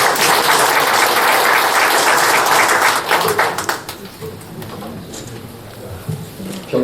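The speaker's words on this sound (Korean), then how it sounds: "평생 최고의 생일 축하 박수를" A crowd at a Korean political debate forum claps loudly and densely for a few seconds, then the applause fades out to a quieter room.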